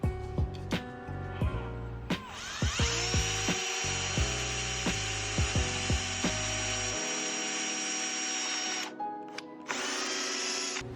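Power drill boring holes through widebody fender parts for a G37 sedan: several short whirring bursts, then a long sustained high-pitched spin with a steady tone, close and clear.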